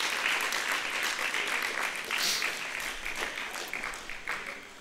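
An audience at a religious discourse applauds, with dense, continuous clapping that holds steady for several seconds before tapering slightly toward the end.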